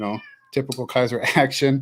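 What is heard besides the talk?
cat meowing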